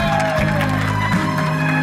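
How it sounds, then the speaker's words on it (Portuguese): A crowd of guests claps and cheers at a birthday tribute, a steady wash of applause with scattered whoops filling the short moment. "Uma salva de palmas, galera."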